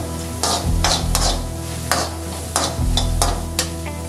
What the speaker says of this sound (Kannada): ಇದು ಡೀಪಾಗಿ ಮೆರೂನ್ ಬರೋ ತನಕ ಫ್ರೈ ಮಾಡ್ಕೋಬೇಕು.